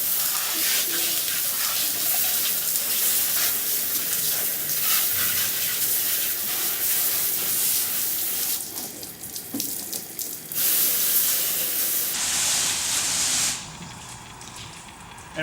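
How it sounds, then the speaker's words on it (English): Water sprays steadily from a hose or tap while boat compartments are rinsed out during a deep clean, a loud continuous gushing hiss that shifts in tone as the stream moves between surfaces. "now that I've just washed out all the compartments, I'm going to go rinse them out"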